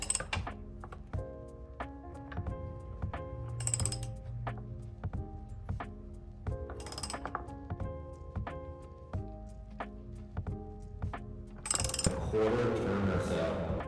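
An oil filter wrench tightening the oil filter on a Yamaha R motorcycle during an oil change, heard as repeated close ratcheting clicks in short bursts with brief pauses and metallic clatter near the end.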